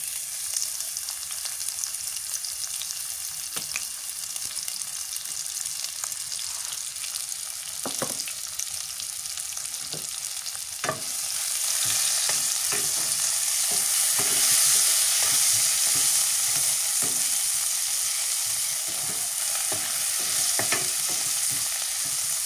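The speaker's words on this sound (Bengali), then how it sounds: "পেঁয়াজ দিয়ে দিই।" Onions frying in oil in a pan for a Sylheti home-cooked dish, a steady sizzle that swells louder about halfway through, with scattered clicks and scrapes of stirring and no voices.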